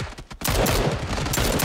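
Rapid gunfire in PUBG, a few scattered shots followed by a loud, dense burst of continuous automatic fire that holds strong to the end.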